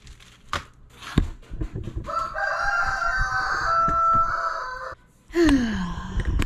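A rooster crows loudly in a long, strained call, with clucks, thumps and other fowl noises scattered around it.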